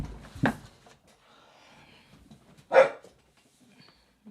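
A dog barks twice, a few seconds apart, each a short sharp bark standing out clearly against a quiet room background.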